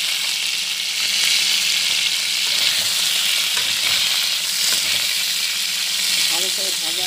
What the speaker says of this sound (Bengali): ভালো করে ভাজা হবে।